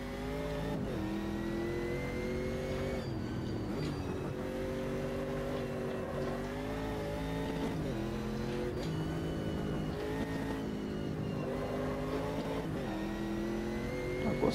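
A Chevrolet Camaro race car in the sim-racing game Automobilista 2 drones loudly and continuously, its engine note rising and dropping with repeated gear changes and braking into corners, with no talk over it.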